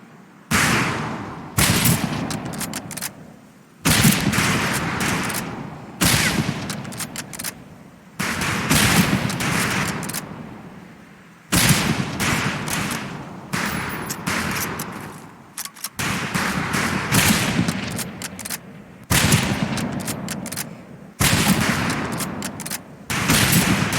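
Rifle volleys crack out on a firing range in Medal of Honor Pacific Assault, loud repeated bursts of gunfire arriving in clusters roughly every two seconds, with short pauses between.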